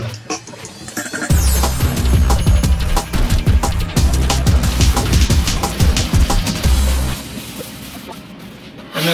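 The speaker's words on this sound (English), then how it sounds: "I'm just going to basically take a medium sanding block" A medium sanding block scrubs across a fiberglass layer on a model airplane in loud, rapid back-and-forth rasping strokes that hold steady for several seconds and then ease off.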